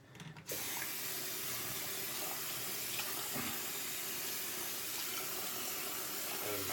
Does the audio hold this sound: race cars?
no